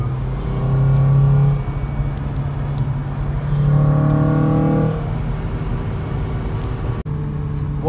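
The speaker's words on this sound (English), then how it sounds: "Intake, man, that thing sounds crazy" A Honda Civic Si accelerating from inside the car, its intake rising in pitch in two separate revving pulls over a steady engine drone, with a short knock near the end.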